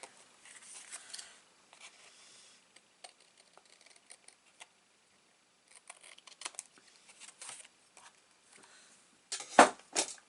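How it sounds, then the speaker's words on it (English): Scissors trim a piece of card in short, quiet bursts of snipping and crisp clicks, spread out with pauses, ending in a louder close cut. "Get my scissors, give it a trim from the back"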